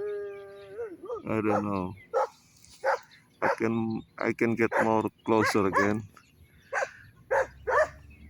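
A puppy howls and barks outdoors among a roaming family of dogs, with a high wavering howl at the start followed by short yips, while a person talks close by throughout.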